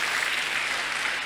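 A children's audience at a health talk claps in a brief, steady burst of dense applause that stays even throughout.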